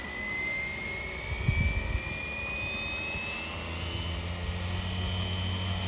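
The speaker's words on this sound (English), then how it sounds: "Taking off. Bell 206. Waiting for constant speed." A Roban 470-size model Bell 206 Jet Ranger helicopter's rotor whines and hums steadily, its pitch slowly climbing as it spins up for takeoff, with a brief low thump partway through.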